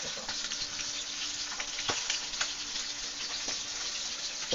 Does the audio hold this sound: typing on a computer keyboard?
no